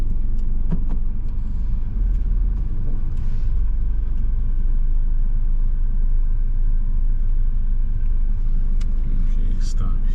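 A car rolls along during a Florida driver's license road test, its steady low engine and road rumble continuing throughout while an examiner gives driving instructions nearby.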